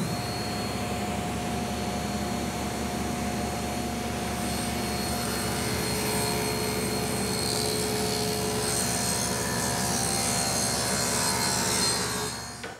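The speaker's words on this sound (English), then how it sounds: "I'll make the first cut for a rabbit that's going to hold the plywood back." A loud table saw runs steadily as a rabbet is cut into a wood piece for a mirror, its blade whine and roar continuing without a break for about twelve seconds before starting to wind down.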